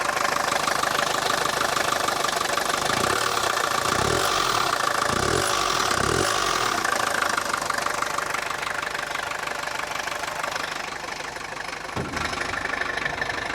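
A 1969 Mercedes 220 diesel engine idles with a steady, close clatter and a rough rhythmic knock, holding an even loud level throughout with a brief dip near the end.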